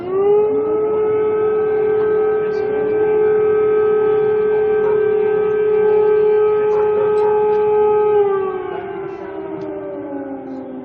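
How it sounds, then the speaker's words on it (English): A loud air raid siren on the streets of Kyiv holds a steady, droning wail for several seconds, then slowly winds down in pitch. "The sounds of sirens here on the streets of Kiev"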